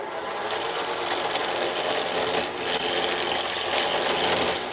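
A wood lathe spins a walnut pen blank at about 1300 RPM, a loud steady whirring drone with a bright cutting hiss on top, briefly dipping midway then resuming, close and continuous with no speech.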